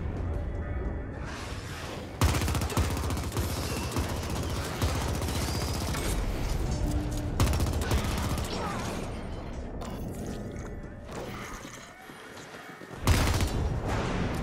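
Gunfire in The Ascent cyberpunk shooter hits a small robot: dense rapid automatic shots and mechanical clatter keep going for a long stretch, with brief pauses and a fresh burst near the end, under faint game ambience.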